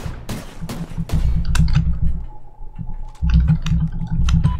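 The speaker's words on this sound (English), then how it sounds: "what are you typing? Wait, you heard that? Yes, that shit is loud." Loud, close clacking of keys on a computer keyboard during an online match, bursts of rapid typing separated by brief pauses, with a faint steady tone in the background.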